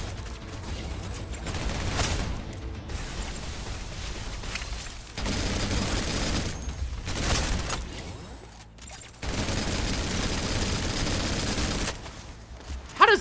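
Heavy sustained gunfire in the Snowbreak video game, long dense volleys of rapid shots broken by short pauses, with loud bursts and mechanical clatter throughout.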